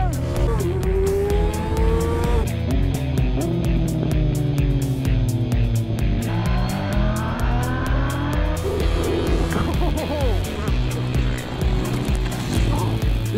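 A Kawasaki ZH2 motorcycle ridden at full power, engine notes rising sharply through repeated upshifts with loud whine and rumble, close on-board, wind roar steady underneath.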